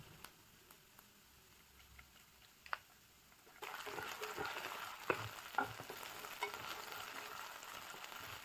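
Garlic paste hits hot oil over browned onion for a fish masala, giving a soft sizzle that swells suddenly midway into a steady, louder frying hiss with a few stirring clicks.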